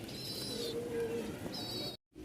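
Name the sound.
Lahori pigeons cooing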